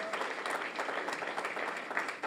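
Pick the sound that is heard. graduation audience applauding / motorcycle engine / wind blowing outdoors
graduation audience applauding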